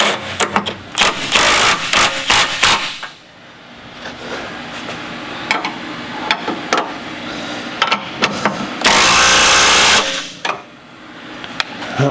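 Rapid bursts of a power tool tighten bolts on a Mustang's K-member suspension, loud buzzing runs of a few seconds each, separated by sharp metallic clicks and clanks.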